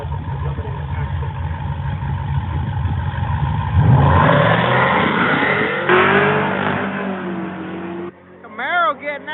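A Camaro race car accelerates hard, its engine roaring loud and close before the sound shifts as it pulls away, with a commentator talking over it.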